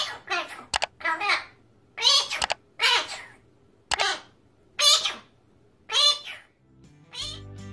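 A bird produces a series of speech-like squawks and chatter, about eight separate bursts, imitating a human voice, with a short mechanical noise at the end.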